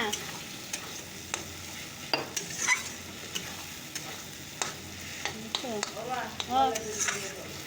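Masala being sautéed in a pan for fish curry, with a spoon scraping and stirring in irregular strokes over a low, steady sizzle, close and moderately loud, plus a few brief squeaky scrapes near the end.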